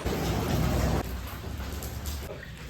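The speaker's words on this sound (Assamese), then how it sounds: "যথেষ্ট বৰষুণ হৈ আছে" Steady rain hisses and patters close by, louder for the first second and then settling into a softer continuous downpour.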